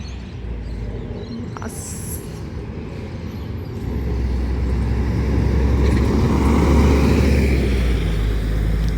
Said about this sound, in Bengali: বাসটা এত জোরে কেন গেল